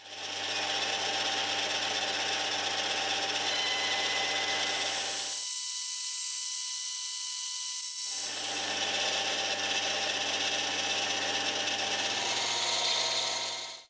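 Brass stock for a bushing is worked down to size with a steady, loud machining rasp that runs continuously, cuts out for a couple of seconds, then resumes just as strongly.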